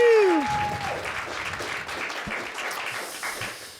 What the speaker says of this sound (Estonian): Teeme mu sõpradele aplausi, palun!